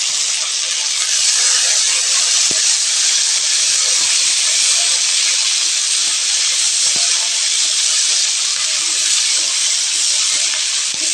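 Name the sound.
curry leaves sizzling in hot oil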